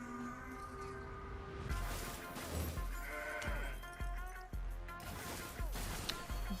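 A goat bleat from the Mountain Goat card in the Legends of Runeterra video game, a loud wavering cry heard with game sound effects and thuds around it.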